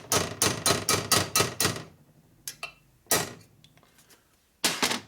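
Metal punch hammering a snap ring into place during a 1961 Harley-Davidson Sportster XLCH transmission rebuild: a rapid run of seven sharp metallic strikes, then a pause and a few scattered hits, close and loud with no talk.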